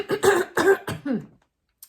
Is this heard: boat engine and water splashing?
no